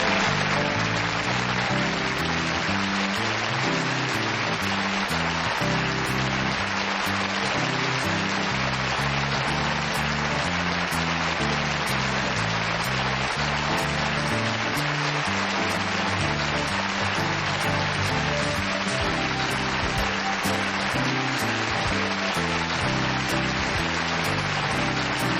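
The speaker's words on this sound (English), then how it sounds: "I'm humbled by that applause." A television studio audience applauds steadily for the full stretch, a dense, loud and unbroken wash of clapping that neither swells nor fades.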